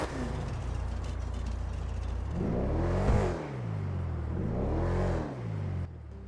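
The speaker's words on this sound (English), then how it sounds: "go in the car, start it, and see what the engine sounds like" A hot rod car engine in a video game cranks and fires, then revs up and down twice in deep, rumbling surges before cutting off abruptly; close and loud, no talking.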